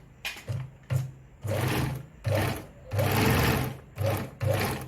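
A Veritas zickzack 8014/29 sewing machine sews a straight stitch at its longest stitch length, running in a series of loud, close mechanical whirring bursts of varying length separated by short pauses.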